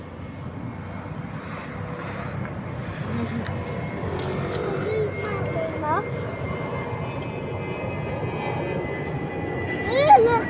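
An airplane passing overhead, a steady droning engine roar that swells gradually over ten seconds, with people chatting nearby and a brief louder burst at the end.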